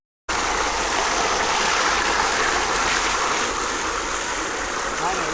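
Water rushing steadily while freshly caught fish are washed, a loud, even splashing wash from start to finish, close and without pause after a brief silent start.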